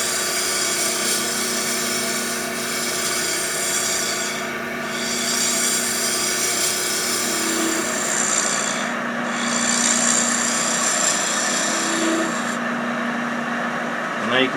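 A Hope 6mm Pro carbide woodturning tool shaves fine curls from wood spinning on a lathe, making a steady close whirring hum with a soft, continuous scraping edge that swells gently as the cutter moves back and forth.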